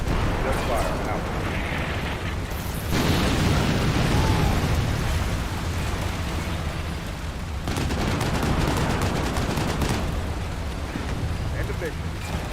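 Gunfire and explosions in the Combat Mission: Cold War strategy game, heavy continuous rumbling blasts and crackling distant fire, loud and sustained throughout, with talk over the battle noise.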